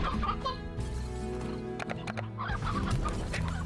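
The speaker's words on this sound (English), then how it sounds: "Oh, hello, there's another old hen." Hen clucking in the video game Slime Rancher, a steady run of close clucks over an even, continuous background hum.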